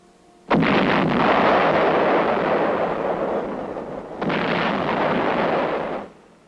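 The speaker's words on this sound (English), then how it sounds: "The 155 howitzer is zeroed in." A 155 mm howitzer firing in Korea: two loud, booming blasts a few seconds apart, each followed by a long, rumbling roar that dies away slowly, heavy and dominant with no voices.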